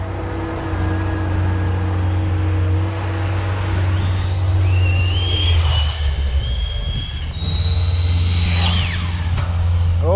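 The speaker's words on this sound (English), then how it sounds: "That was definitely full throttle." JJRC RC car fitted with a 5900kv motor on a stock 35A 2-in-1 board, run at full throttle: a steady motor whine rising in pitch over loud outdoor wind noise, with a second high whine near the end.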